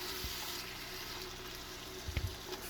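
Chopped tomato frying in a pan as the base for cooked beans, giving a soft, steady sizzle throughout with a couple of faint clicks and knocks near the end.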